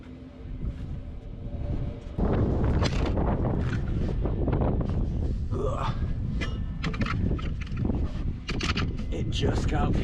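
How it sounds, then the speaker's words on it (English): Gusty wind blows outdoors during work on a ZR2 Blazer, buffeting the microphone as a loud low rumble that rises sharply after a couple of seconds and stays strong, with brief voices over it. "It just got windy."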